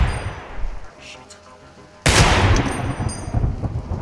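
Receiver 2 video game gunfire with a sudden loud, sharp blast halfway through that rings out into a noisy tail, following quieter rumbling and faint clicks.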